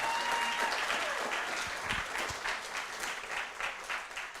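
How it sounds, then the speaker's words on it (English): An audience gives a sustained round of applause at a college tour premiere event, steady clapping from a large crowd that slowly thins toward the end, with faint voices mixed in. "let's give these folks one more round of applause."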